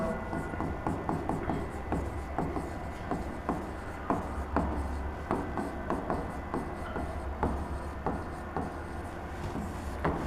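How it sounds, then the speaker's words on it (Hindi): Pen or marker scratching across paper or a board while the Pythagorean theorem is written out by hand, a steady run of short scraping strokes and taps, close and fairly quiet, with no speech. "पाइथागोरस थ्योरम लिखता हूं"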